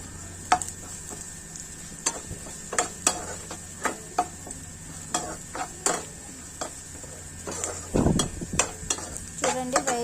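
Curry leaves fry in oil during a paneer fried rice preparation, a low sizzle under frequent sharp clinks and scrapes of a spatula against the pan, with a brief louder rustle toward the end.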